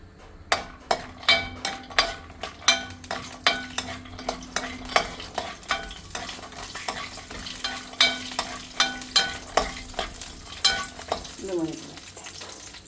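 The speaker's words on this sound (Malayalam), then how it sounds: "അതിനാദ്യം നമുക്ക് കുറച്ച് അണ്ടിപ്പരിപ്പും ബദാമും ഒന്ന് വറുത്തെടുക്കാം" Cashews and almonds roast in cow ghee in a pan, with a soft sizzle under a steady run of sharp, rhythmic scraping and tapping strokes from a spoon stirring against the pan, close and fairly loud.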